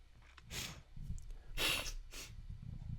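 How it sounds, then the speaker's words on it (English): Three sharp nasal sniffs from a person, close to the microphone, spaced roughly a second apart with quiet breathing between them and no speech. "Very sorry for the sniffing."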